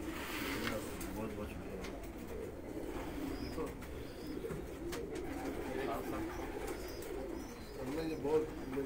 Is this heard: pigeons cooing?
yes